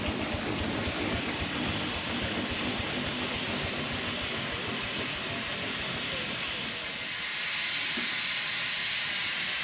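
A 6-inch McLaren steam traction engine rolls past at a steam festival, loud steady hissing and rumbling with rapid chuffing beats that ease off toward the end.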